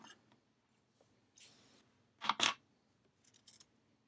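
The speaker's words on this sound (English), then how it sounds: "We're going to cut our yarn." Scissors snip through crochet yarn in a quiet room, a sharp double snap of the blades closing after a soft rustle of handling, with a few faint clicks afterward.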